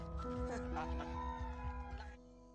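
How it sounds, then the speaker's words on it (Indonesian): A fighting cock crows and clucks close by, harmonic calls rising and falling over about two seconds before cutting off abruptly, with no voices. "Makoy mengurusi ayam jago milik pria bernama Samuel"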